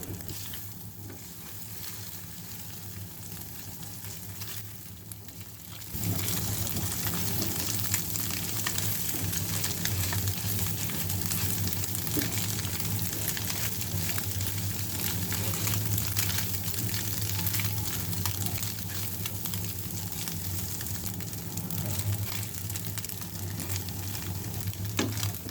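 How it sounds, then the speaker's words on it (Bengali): Eggs being stirred in a hot frying pan while making pasta, a steady loud sizzle and frying hiss that jumps up in level after a quieter opening and then continues unbroken, with faint scraping of stirring underneath and no talking. "এরপরে ডিম দিয়ে কিছুক্ষণ নাড়তে হবে।"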